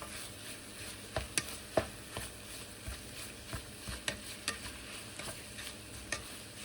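Eggplant, mushrooms and onions being stirred together in a frying pan: a soft, steady sizzle with a run of scattered scrapes and clicks from the utensil, fairly quiet and with no voices.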